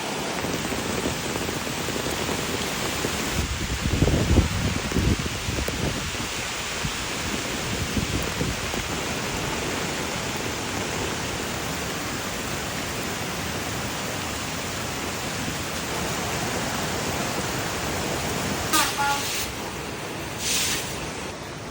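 Steady, loud broadband roar of strong wind rushing outdoors among coconut trees, continuous throughout with a few gustier swells and brief rustling bursts of falling dry leaves.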